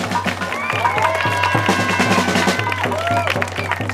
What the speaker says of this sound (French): j'aimerais que vous vous applaudissez tous les uns les autres d'être toujours présents